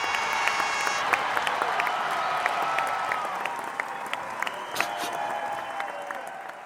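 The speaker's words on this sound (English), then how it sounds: "Pause for applause." Studio audience applause rolls steadily for several seconds with scattered claps and faint cheers, loud and close, tapering slightly toward the end, with no talking over it.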